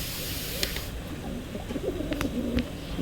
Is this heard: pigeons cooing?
yes